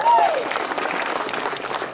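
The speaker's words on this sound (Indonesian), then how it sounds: "Tepuk tangan untuk kita semua." A crowd at an outdoor gathering in Belu, East Nusa Tenggara, breaks into applause, a dense continuous clatter of hands following a brief whistle-like tone, with voices and cheering mixed in.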